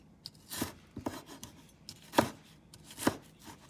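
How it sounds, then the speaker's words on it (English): A knife chops a pepper into thin slices on a cutting board in a few quiet, irregular strokes, close up with soft thuds between pauses. "So I'm going to cut off the pepper, start chopping to thin slices."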